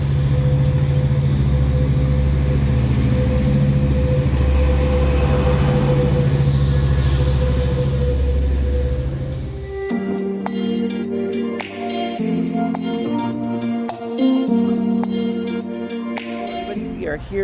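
Train ride departing Riverside downtown station: a loud steady rumble of rolling rail cars with wheel noise runs for nine seconds, then gives way to quieter clattering and tonal hums inside the car, with some voices faintly present.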